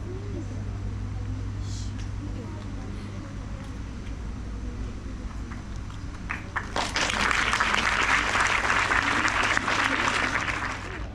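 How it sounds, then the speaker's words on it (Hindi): An audience at a Hindi poetry recital breaks into loud applause partway through, the clapping swelling and holding steady after a quieter stretch of low hum and faint room noise. "बच्चे जोरदार तालियां हमारे निर्णायक बनने के लिए"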